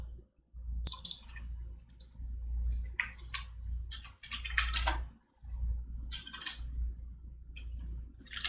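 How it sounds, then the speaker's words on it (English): A computer keyboard clacks in quick bursts of typing, with short pauses between runs of keystrokes, close and clear over a low steady hum. "let's go ahead and type this in"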